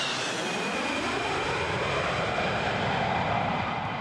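An F-111 swing-wing jet at RAAF Base Amberley roars past, a loud sustained engine rush whose pitch sweeps slowly as it goes by, with no talk over it.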